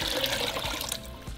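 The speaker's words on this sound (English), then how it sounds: "in a large pot we're going to add about 16 cups of water." Water pouring from a tap into a large cooking pot, a brief, close splashing rush that tapers off near the end.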